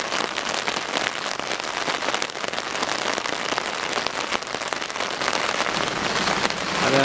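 Steady rain pours down on a village street lined with thatched houses, a dense, continuous patter and hiss close by that fills the whole stretch without any voices.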